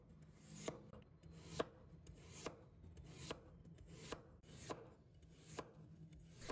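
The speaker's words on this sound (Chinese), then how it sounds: "再把土豆切成薄厚均匀的片" A knife slices a potato into even slices on a cutting board, giving a steady series of crisp, close chops at a regular rhythm over a quiet background.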